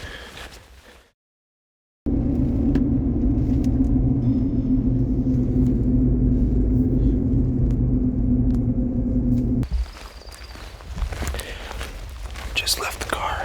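A car driving a rough backcountry route in the Montana mountains makes a steady, loud low rumble for several seconds, then cuts away to quieter outdoor noise.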